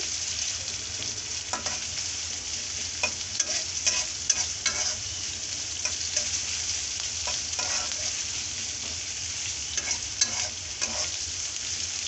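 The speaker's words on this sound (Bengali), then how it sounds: "প্রথমে পেঁয়াজটা ভেজে নিচ্ছি" Onion frying in a pan as the first step of a chickpea curry, a steady close sizzle broken by frequent spatula stirs and scrapes, with no voices.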